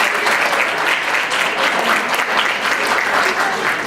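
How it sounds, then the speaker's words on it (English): A crowd gives loud, sustained applause at a mock debate, dense clapping from many hands continuing evenly throughout. "Can we please give them a round of applause one more time?"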